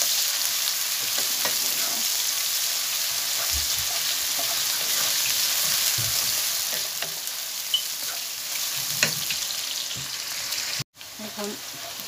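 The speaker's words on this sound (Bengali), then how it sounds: "পেঁয়াজটা একটু ভাজা ভাজা করবো।" Chopped onions fry in a pan with a loud, continuous sizzle while a utensil stirs them with occasional scrapes, and a brief knock comes near the end.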